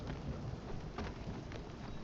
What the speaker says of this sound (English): Lightning storm. Don't be scared.